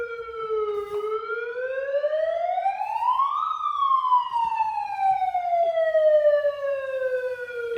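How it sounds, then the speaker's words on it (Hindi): Ahuja SUH-25M police siren tone from a horn mounted on an SUV, a loud electronic wail sweeping steadily up then gliding back down in one long cycle, alone without talk. "इसमें पुलिस सायरन है"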